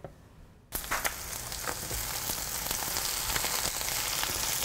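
Cut green onion pieces hit a hot pan and start sizzling, a sudden onset after near quiet, then a steady crackling fry that grows slightly louder and continues alone.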